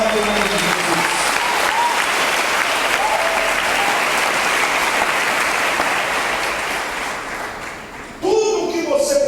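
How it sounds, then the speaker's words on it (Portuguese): A church congregation claps together in sustained, dense applause that fades slightly before a voice breaks in near the end. "dê uma salva de palmas ao Senhor em nome de Jesus"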